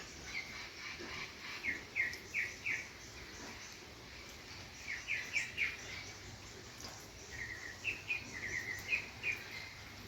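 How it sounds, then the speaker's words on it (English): Distant parrots call in short, squawking bursts that come in clusters, separated by quieter gaps, over soft outdoor ambience on a rainy day. "Parrots in the distance."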